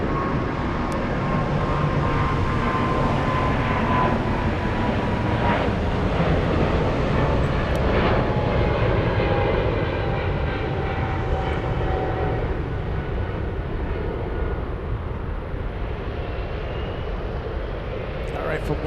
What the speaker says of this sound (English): Emirates Sky Cargo lifting off using 257 for takeoff.